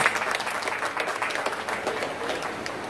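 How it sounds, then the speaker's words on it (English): A crowd at a bird festival ceremony in Sabah, Malaysia, applauds after a school's welcoming performance, a full, even burst of clapping from many people that stays steady and fairly loud throughout. "Another round of applause for the wonderful performance."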